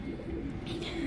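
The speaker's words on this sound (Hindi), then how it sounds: "जहाँ पे ये कबूतर बैठे हुए हैं यहाँ पे आके लाइन से बैठने लगते हैं" Pigeons cooing softly while feeding on scattered grain, a low throaty coo repeating close by over light background noise.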